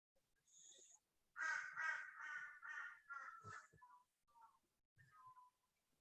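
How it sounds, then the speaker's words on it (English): Crows caw outside in a series of harsh, rasping calls, several in quick succession, then a few more scattered caws, faint and at a distance with no talk over them. "can you hear that crow"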